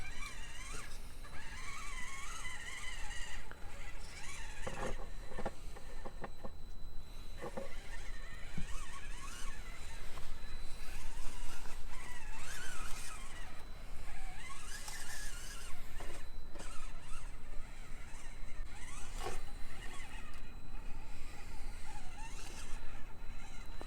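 A Hobby Plus CR18P 1/18 rock crawler van with portal axles drives over a rocky outdoor course, giving steady faint motor whine with scrabbling and clattering across rough ground, plus occasional squeaky bursts.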